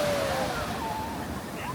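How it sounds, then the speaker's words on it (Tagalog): Ocean waves washing onto the beach at La Union, a broad continuous surf roar filling the scene, with faint voices and a thin whistling tone drifting over it. "The waves, though."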